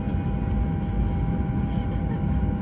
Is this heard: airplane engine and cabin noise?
yes